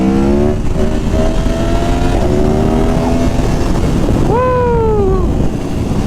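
An Aprilia Tuono Factory motorcycle engine roars steadily while riding in second gear, pitch climbing and dropping through gear changes, then a sharp rev rises and falls near the end, with heavy wind rush throughout.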